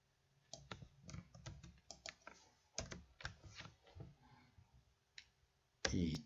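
Code typed on a computer keyboard, heard as irregular bursts of quiet close key clicks with brief pauses, ending in a louder clatter, with no talk.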